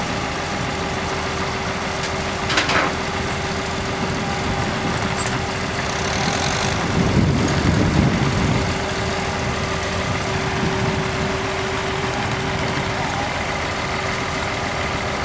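A dumper's engine idles and rumbles steadily at a tractor show, with outdoor crowd noise and scattered voices over the constant drone.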